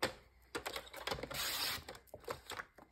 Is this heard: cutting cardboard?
yes